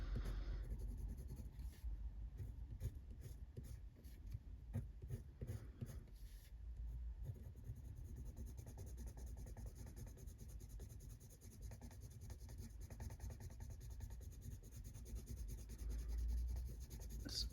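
Coloured pencils rub across paper on a colouring page, a close, steady scratchy stroking that keeps going throughout with short pauses and no talking.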